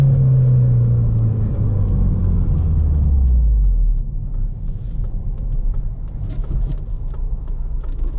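A stock-tuned eighth-generation Honda Civic Si with VTEC pulls hard as its engine note sweeps down, then settles into a steady, loud road rumble and drone from inside the car.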